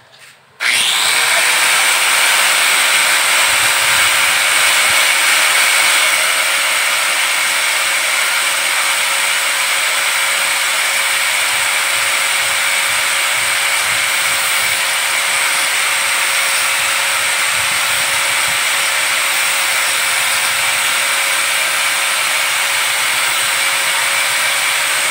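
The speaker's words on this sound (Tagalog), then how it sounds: "gamitin natin ang grinder." A grinder cutting into a DIY diving flashlight housing: one loud, steady, high-pitched whine that starts abruptly and runs without a break for about 25 seconds, close up, with no talking.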